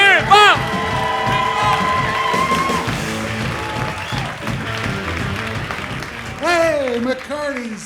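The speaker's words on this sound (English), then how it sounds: "big round of applause for Big Bob Lollgen" A comedy club audience applauds and cheers for a comedian at a comedy boot camp class show, steady clapping with whoops mixed with tonal music and voices, swelling again near the end.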